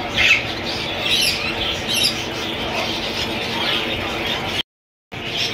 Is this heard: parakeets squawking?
yes